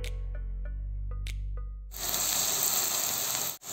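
Onions sizzle and fry in a pan for Thirukkai fish puttu, a loud steady hiss that begins after a quieter stretch of clinking and lasts to the end with no talk.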